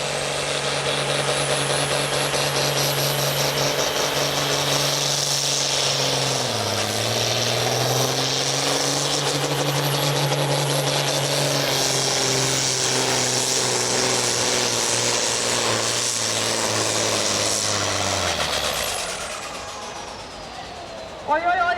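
Ursus or Zetor tractor engine revving hard at a tractor pulling competition, a loud sustained drone with rising and dipping tone as it strains under load, then dropping away near the end as the engine winds down.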